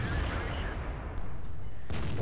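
A tank cannon fires in a World War II tank battle video game, with a loud blast over dense battlefield rumble and then a second sharp report that follows.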